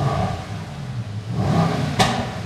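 A Mercedes AMG GT63s engine idles with a low rumble, then swells into a rev, ending with a sharp crackling burst before settling back, close and loud.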